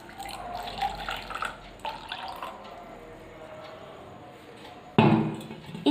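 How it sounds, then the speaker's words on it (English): Water is poured into a drinking glass, giving a bubbling, trickling fill for several seconds, then a brief pause before a louder splashing pour near the end; no one talks. "I have poured some water"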